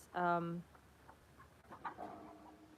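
A chicken lets out a short, loud squawk, followed by quieter scattered clucks and rustling in a calm setting.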